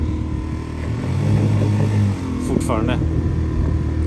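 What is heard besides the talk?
small boat motor rising and dipping in the waves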